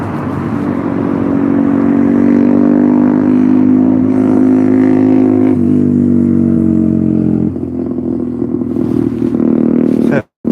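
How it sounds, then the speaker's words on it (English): A loud motorbike engine roars close by near Puerta de la Sud beach, its pitch shifting as it passes, continuous for about ten seconds before cutting off abruptly. "that's too loud for a bike, that's stupid"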